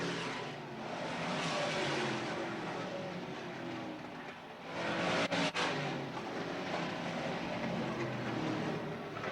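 Late model race cars at Selinsgrove Speedway roar past in a tight pack, a distant, rushing engine drone that swells and fades as the cars sweep by.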